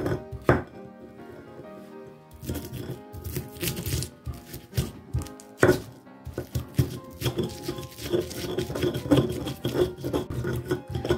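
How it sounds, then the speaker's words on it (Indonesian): Garlic and salt are ground in a stone mortar and pestle (ulek), giving irregular scraping, rubbing and knocking strokes up close, with no talk. "Ulek."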